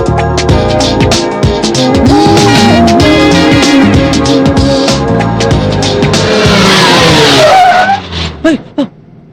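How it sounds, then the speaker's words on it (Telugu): A jeep brakes hard on a road, its engine roaring loudly before the tires squeal and skid to a stop, then the motor settles and fades with a few short bursts. "ఏంట్రా అంత సడన్ గా బ్రేక్ వేసావు?"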